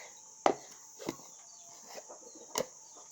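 Soft, scattered chicken clucks and a few sharp pecking taps, quiet and close, with pauses between them.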